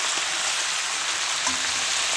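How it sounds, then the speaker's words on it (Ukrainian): Onions sizzle steadily in a frying pan, a dense crackling hiss with no talking. "Сковородочка наша шкварчить"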